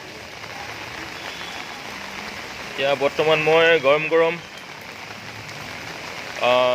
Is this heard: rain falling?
yes